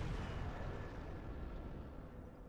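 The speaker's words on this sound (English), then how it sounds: "the big reveal of the Dragon King Great Axe special attack" Dragon King Greataxe special attack in Dark Souls Remastered: a loud, heavy rumbling boom that stays dense and broad before slowly easing off over a couple of seconds.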